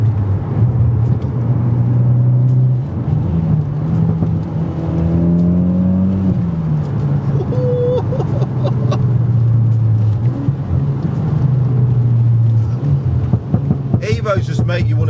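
A Mitsubishi Evo X four-wheel-drive car pulls hard out of a roundabout, its engine droning loud and close from inside the cabin, revs rising and falling through gear changes with road rumble underneath.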